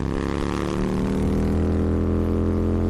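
A cartoon Bullet motorbike engine roars loud and steady at racing speed, a continuous close drone with a slightly rising pitch.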